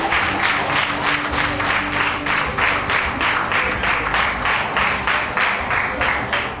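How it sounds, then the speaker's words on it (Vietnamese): An audience applauds a performance at a birthday celebration for an artist, steady rhythmic clapping from many hands filling the whole stretch, loud and close, with faint speech beneath. "Xin thật cảm ơn những tràng pháo tay"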